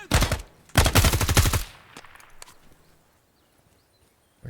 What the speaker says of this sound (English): Whoever was just taking shots at me might have been in that building.